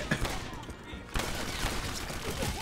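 Gunfire from the World War II shooter game Medal of Honor Airborne, a dense burst of rapid shots and a sharp new volley partway through, loud and close over a busy battle din.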